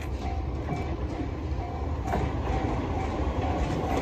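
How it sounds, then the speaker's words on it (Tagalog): A train passing by in a residential area of Japan, a steady continuous rumble with faint rail clatter and a soft high whine, heard fairly close throughout with no talk. "Ayan, nakikita ninyo mga loves yung train."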